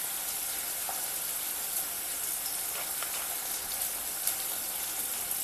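Whole spices, a bay leaf, cardamom pods, cinnamon, cloves and caraway, sizzling in hot oil for moong dal khichdi, a steady soft crackle with faint pops throughout.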